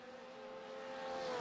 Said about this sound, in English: engines roaring around the Nordschleife.